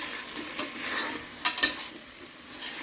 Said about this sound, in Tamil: வாஷ் பண்ணி கட் பண்ண வச்சுருந்த மஷ்ரூமு இப்போ இதில் சேர்த்துக்கலாம்.